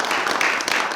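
An audience at a public speaking graduation ceremony claps in a steady, dense wash of applause, fairly close and sustained throughout the short moment.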